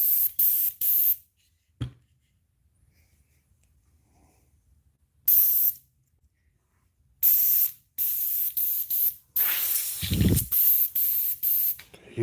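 An aerosol can of aluminum-colored spray paint hisses in several separate bursts, short then longer and sustained, close and loud with near-silent pauses between sprays.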